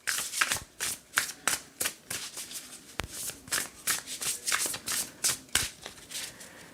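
Sacred Forest oracle cards shuffled by hand in a quick, regular rhythm of crisp riffling bursts, about two per second, close and clear with no talking.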